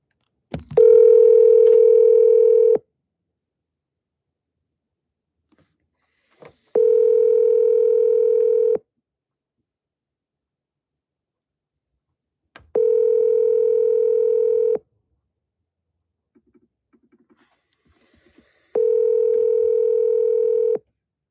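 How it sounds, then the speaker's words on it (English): Outgoing telephone call ringing back, four long steady tones of about two seconds each, separated by silent gaps and heard alone with no talk. "I'm gonna go ahead and call."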